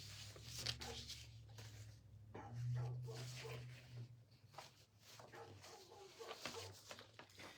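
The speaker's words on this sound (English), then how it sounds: "somebody's dog is barking" A dog barks in several muffled bursts that sound like a recording, faint and somewhat distant, over a low background hum.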